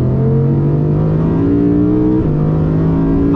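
A 2023 Audi R8 GT with a V10 engine driving hard, its loud steady engine note holding strong harmonics that climb and then drop as the car shifts, close and alone with no talk.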